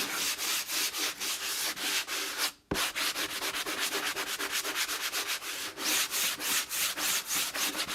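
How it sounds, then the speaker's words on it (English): A small sander works over chalk-paste-coated furniture edges in a close, steady, pulsing rasp of rapid strokes, broken by one brief pause midway. "I'm going to grab my little sander and just kind of sand these edges."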